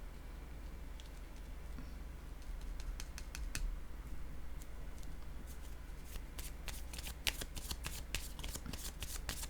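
Tarot cards are shuffled and laid down, with close, dry riffling and a run of sharp crisp taps that grows busier toward the end.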